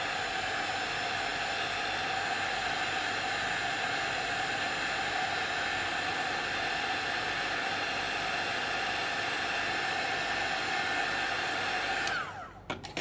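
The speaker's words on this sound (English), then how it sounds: "I'm going to use the heat tool again." Craft heat tool blowing steadily for about twelve seconds while drying paint on an altered box embellishment, a loud continuous hiss and whoosh that cuts off abruptly near the end.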